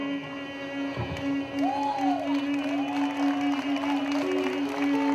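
An audience at the Mutiloa town festival applauds and cheers, a continuous spread of clapping with occasional whoops, heard beneath a sustained tonal hum and a brief gliding voice-like note.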